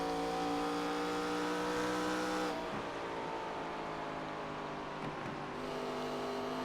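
A race car engine at Iowa Speedway gives a loud, steady drone that holds high revs, then drops and wavers as the throttle eases, continuous and close throughout.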